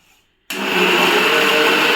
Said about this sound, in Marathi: मिक्सरमध्ये करतोय